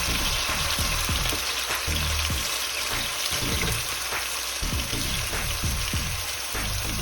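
Pureed onion sizzles and crackles in about four tablespoons of hot extra virgin olive oil while tomato sauce is being made at home, a steady dense frying hiss with popping spatters throughout, close and continuous.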